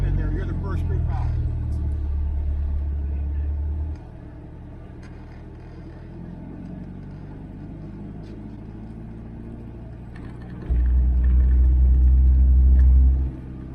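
Cars pull up in line for a spring drive, with the low engine rumble of idling and creeping cars rising and falling close by and a voice talking over it.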